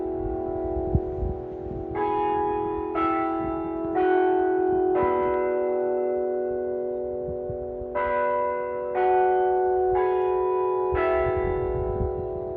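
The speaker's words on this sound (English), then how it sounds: "we were graced with the bells at the Stanley Hotel" Church-style bells ring outdoors at the Stanley Hotel, with deep resonant strikes sounding in two groups of about four spaced chimes each, every stroke ringing out and decaying over steady low background noise.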